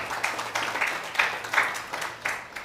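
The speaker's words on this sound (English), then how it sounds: "We can save the applause for later, guys." Audience applause at a women-of-color climate change speaking event, a scattered crowd clapping in uneven bursts of moderate loudness.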